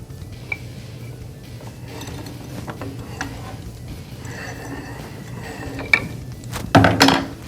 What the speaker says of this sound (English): So you want to use the torque wrench accordingly to